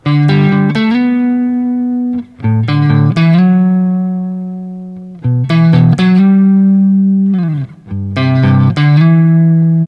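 Electric lead guitar plays melodic triad phrases over sustained chords, bright harmonic notes sliding and ringing in short bursts with brief gaps, clean and alone.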